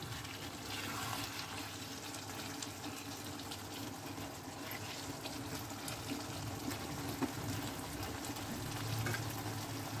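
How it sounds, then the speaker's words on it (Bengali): Water runs and splashes while a bowl is rinsed and the water poured into a simmering chicken posto, a continuous, moderately loud wash of flowing liquid with no clear breaks. "এই বাটিটা ধুয়ে আমি জলটা দিয়ে দিচ্ছি।"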